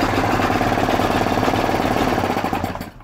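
A refurbished Vire 7 economy marine engine idles with a steady, loud, knocking mechanical chug, then winds down and stops near the end.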